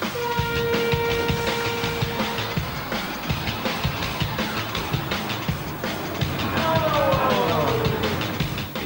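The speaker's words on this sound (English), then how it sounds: "The train cascades backwards." Roller coaster train rolling backwards along the track, a steady loud rumble with rattling clatter and squealing metal tones that glide and fade.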